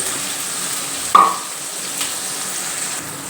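Garlic, shallots and tomato sautéing in a pan give a continuous soft sizzle, broken by one sharp utensil clink near the start and a few lighter stirring knocks.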